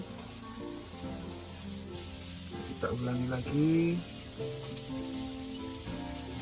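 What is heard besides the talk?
crispy coated chicken frying in hot oil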